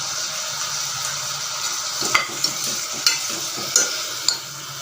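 Chopped tomatoes with a little salt sautéing in a pan, a steady bright sizzle throughout with several sharp taps and scrapes of a spoon in the second half.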